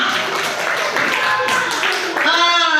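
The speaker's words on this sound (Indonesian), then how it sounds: "Tepuk tangan buat kita semua." A small group claps together in a classroom-style session for teachers in Indonesia, a short burst of clapping with voices talking and laughing over it.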